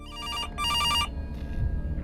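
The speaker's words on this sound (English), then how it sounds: "Followed by yet another phone call." A telephone rings in a FNAF-style horror video game, two loud electronic trilling bursts in quick succession, followed by a low rumbling game ambience.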